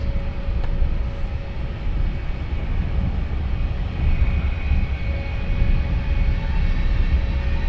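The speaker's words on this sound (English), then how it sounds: "Delivery flight on finals" A fixed-wing aircraft on final approach to Luton Airport in the early morning, heard as a steady, broad engine rumble with a faint whine that holds throughout, no talk over it.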